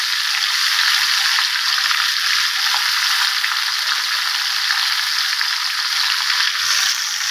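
A single dried chili and chopped onion fry in a pan, giving a steady, loud sizzle with a faint crackle that holds evenly throughout, no voices present.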